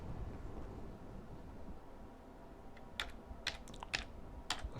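Fingers tap out a quick burst of keystrokes on a computer keyboard while entering a search, the clicks close and crisp, arriving in short clusters over a steady background hum with no voices.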